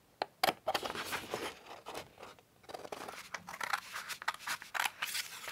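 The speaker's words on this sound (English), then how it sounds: "I'm going to cut out my image" Scissors snipping around a paper fairy image for a junk journal, a close series of crisp, irregular cuts with short pauses between them, no talking.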